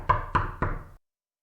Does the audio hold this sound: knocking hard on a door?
yes